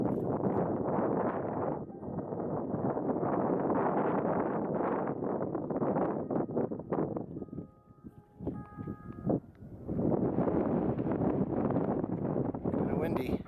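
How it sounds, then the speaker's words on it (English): Strong wind roars and buffets the microphone on Bighorn Plateau, loud and continuous, easing briefly in the middle before gusting back up at full strength. "Kind of windy."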